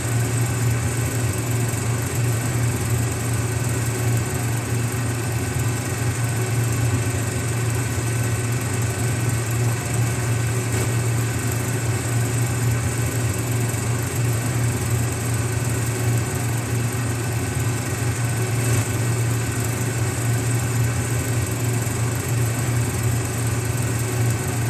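Parts of a 1999 Bajaj M80 scooter being spray painted during a restoration, with a loud, unbroken mechanical hum and hiss that holds steady throughout and no talking.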